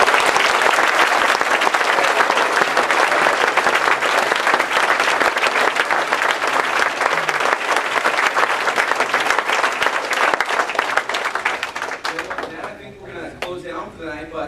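Sustained audience applause for a delegation at the close of a health care event, loud and dense for about twelve seconds before thinning out, with voices mixed into the clapping.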